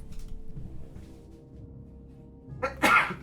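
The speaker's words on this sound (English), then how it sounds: "That sneeze came out of nowhere." A single sudden sneeze bursts out near the end of a Warcraft III tournament commentary broadcast, loud and close, after quiet low background sound.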